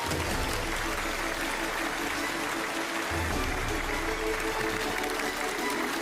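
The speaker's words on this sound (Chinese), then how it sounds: "掌声有请冯老师" A studio audience at a televised lecture applauds to welcome a guest speaker, a thick, continuous wash of many hands clapping that stays loud and even from start to finish.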